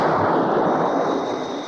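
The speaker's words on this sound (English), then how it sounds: "Missile away." A missile launching in a Thunderbirds puppet adventure, a loud sustained roaring rush of rocket exhaust that fills the whole moment and tails off slightly at the end.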